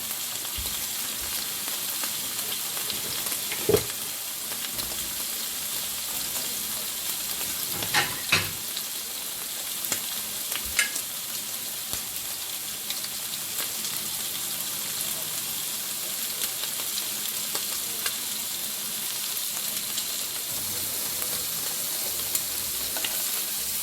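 Shrimp sear in a very hot pan for a seafood dish, giving a steady hiss throughout with occasional sharp crackles and utensil clicks, no talk.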